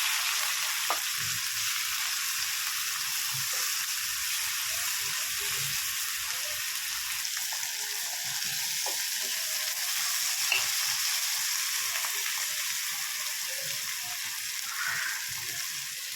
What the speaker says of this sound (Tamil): இப்போது இந்த வாழைப்பூவை போட்டு சும்மா லைட்டாக பெரட்டி வச்சுக்கணும்.